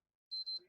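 A PS3 console gives two short, high electronic beeps in quick succession as it boots into recovery mode during a red-screen repair attempt, faint and close, followed by a brief low murmur.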